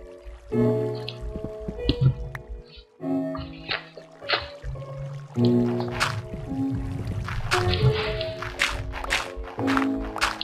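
Water drips inside a cave in the TerraCraft video game: scattered plinks and wet squishy drops, irregular and close, set among clicks and other game sounds.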